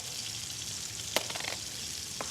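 Onions frying in oil in a pan on a cooking-competition set, a faint steady sizzle with a few brief crackling bursts, no talking.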